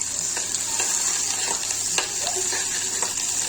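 Ginger and garlic sizzle steadily in an oily frying pan while making beetroot pav bhaji, a continuous close hiss with faint scraping from stirring and no talking.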